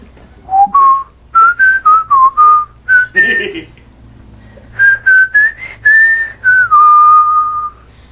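A person whistles the bouncy theme to Leave It to Beaver, The March of the Teddy Bears, in short, clear phrases with brief pauses, close and fairly loud, with a faint murmur of background noise.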